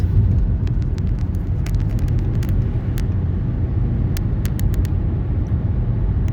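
A car cruises at a steady speed on a Swiss motorway near Basel, giving a continuous low road and engine rumble with faint ticking from inside the cabin.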